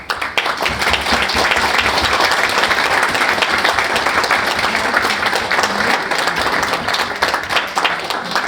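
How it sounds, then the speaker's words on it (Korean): Loud, sustained applause from a large crowd at a civic public forum, dense and continuous clapping filling the whole stretch without pause. "합의문 전달할 때 큰 박수로 맞아주십시오"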